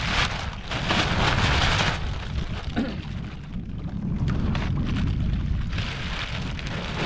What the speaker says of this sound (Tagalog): Ay, naulan na, naulan!